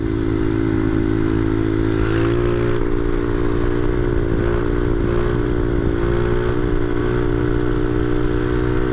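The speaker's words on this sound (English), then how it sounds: "I suppose I better bust out a 5th gear wheelie real quick though, right?" A motorcycle pulls a fifth-gear wheelie at around 55 to 60 mph, its engine droning loud and steady with a constant roar and heavy wind buffeting at close range, and no one speaking.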